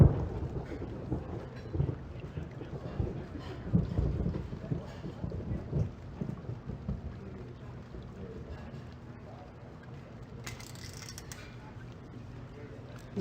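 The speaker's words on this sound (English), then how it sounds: "Looks like the rain's letting up." Rain and rolling thunder in The Pandora Directive video game, a steady dark wash of downpour with low rumbles that swell in the first seconds and then settle back under the rain.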